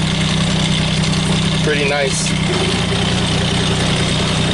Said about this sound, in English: I don't even have to rev the tractor higher than that.